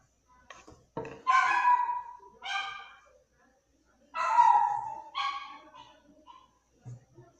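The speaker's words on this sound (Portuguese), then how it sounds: "O cachorro tá brincando com tudo lá fora." A dog outdoors gives several short barks and yips in bursts with pauses between, fairly close and loud over a quiet background.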